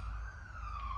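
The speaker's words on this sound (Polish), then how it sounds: "Zobaczcie, karetka w tle." Ambulance siren in the background, a single steady wailing tone that slowly drifts in pitch, distant but clear, with no talking.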